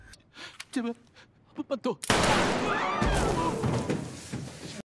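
Gunfire in a film scene where players in a deadly game are shot dead on the spot: a loud, dense burst of shots and crashing noise lasts nearly three seconds after a few seconds of speech.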